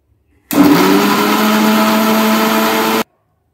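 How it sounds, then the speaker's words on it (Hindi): A mixer grinder blends tomatoes into gravy, a loud steady motor whir with a constant grinding roar that starts abruptly, holds for about two and a half seconds and cuts off. "अब इसी ग्राइंडर में अपन टमाटर डाल देते हैं, टमाटर की ग्रेवी बना लेते हैं।"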